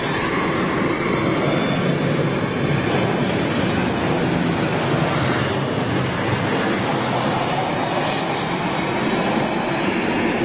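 British Airways Boeing 747 jet passing near Manchester Airport, a loud continuous broadband engine roar with a deep rumble that holds steady throughout and slowly shifts in tone.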